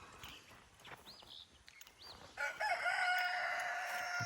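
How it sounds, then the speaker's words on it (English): A rooster crows on a homestead, its cock-a-doodle-doo rising loud and near after a couple of fainter calls, with other birds chirping around it. "Mr. Rooster."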